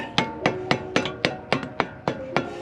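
Nine sharp hammer taps tapping a part into place during a front brake job on a 2015 Lexus RC 350, at a steady, even pace, close by, each with a bright metallic ring, with no talking.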